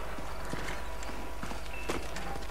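Horse hooves clip-clopping in the video game Red Dead Redemption, a steady, even walking rhythm that sits loud and close over a constant game background.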